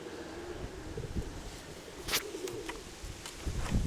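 Pigeons coo a few times over steady outdoor wind noise, with soft wingbeats and bird movement at close range.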